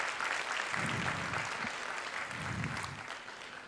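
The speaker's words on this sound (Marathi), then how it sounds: "त्यांचं टाळ्या वाजून सर्वांनी स्वागत करायचं." A gathering at a police felicitation event applauds in welcome, a steady, fairly soft crowd of claps continuing throughout with a faint low murmur beneath.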